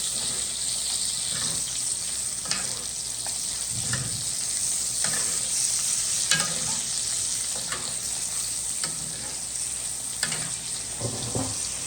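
Rack of lamb frying in a pan with garlic and thyme over a gas flame, giving a constant loud sizzle and spatter with occasional stirring clicks and knocks, close and with no talk.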